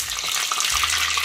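Mustard seeds and curry leaves crackle and spit in hot oil, a loud, dense, close sizzle with rapid popping throughout this short burst, no talking.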